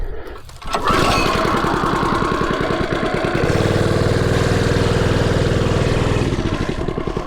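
A HoverHearts 99cc gas bike engine revs hard through a burnout, a loud close buzzing drone that starts after a brief pause and holds steady for several seconds, climbing slightly in pitch midway.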